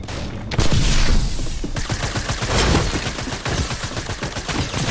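Rapid bursts of gunfire in the Fortnite video game, loud and dense shots repeating in quick succession throughout, with no talk.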